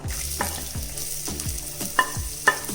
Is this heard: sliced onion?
yes